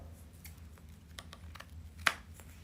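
A single crisp snip of scissors cutting the small ribbon hanger off a pink and white deco mesh piece for a spring bunny wreath, one sharp close click among faint handling rustles.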